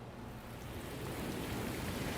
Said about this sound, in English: It's pouring rain!